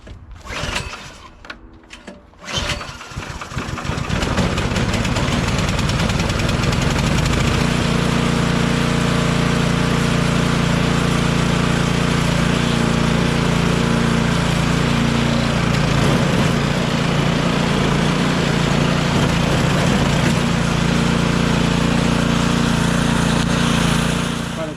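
A Tecumseh 5HP engine on a Troy-Bilt wood chipper vac starts after a few seconds of handling noise, then runs loud and steady at an even idle for the rest of the time, close by with no talking.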